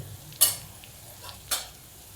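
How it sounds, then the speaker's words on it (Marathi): Onion sautés in a pan with a soft background sizzle, broken by two sharp metallic scrapes of a spoon stirring at close range. "कांदा आता परतला चांगला"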